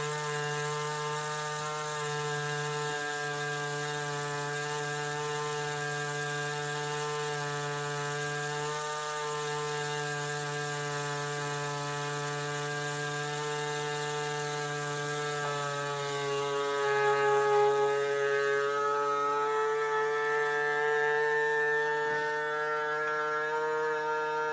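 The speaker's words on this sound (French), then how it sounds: "il est en train de souder le sachet, ça clignote plus" A vacuum sealer seals a bag of smoked food, its motor giving a steady, buzzing drone with layered harmonic tones that holds for over twenty seconds and swells slightly near the end.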